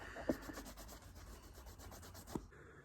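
An eraser rubs back and forth across a shoe in quick, faint scrubbing strokes, with a couple of sharper scuffs near the start and end, all quiet and close with no talking.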